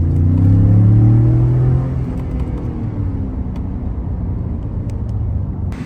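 A bone-stock 2020 Ford F-150 with the 3.5 EcoBoost, running a tune, accelerates hard in two-wheel drive, its engine rising in a loud close roar that eases into a steadier rumble, with no talk over it.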